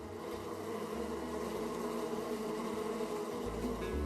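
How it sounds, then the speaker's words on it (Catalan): A bee buzzes steadily with a faint, continuous droning hum, with no voices. "Moc les ales tan de pressa que fan soroll,"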